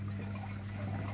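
Pre-mixed liquid fertilizer diluted with water being poured for a rice crop, a soft continuous trickle over a steady low hum.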